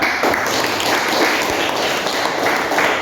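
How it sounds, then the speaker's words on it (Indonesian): A classroom audience claps steadily and densely for about three seconds after a student group presentation, a continuous wash of hand claps with no voices standing out. "Mari kita tepuk tangan"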